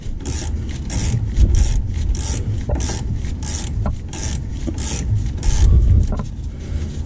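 Repeated ratcheting clicks sound as a wrench tightens a front shock bolt onto its bushings on a Jeep TJ. Short rhythmic bursts of close metallic mechanism noise run throughout, with no voices.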